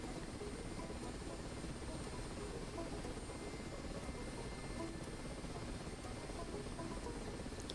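A Mi-8 helicopter in the DCS flight simulator autorotates downward, producing a faint, steady rotor and engine drone with broadband rushing noise that holds constant throughout.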